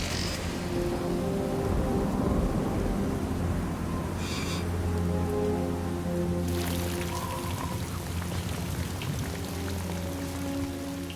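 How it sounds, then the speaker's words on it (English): Steady heavy rain pours down during a thunderstorm in New Zealand's Southern Alps, a dense continuous hiss with patters on surfaces and low rumbling, loud and unbroken with no voices. "But the rain isn't stopping."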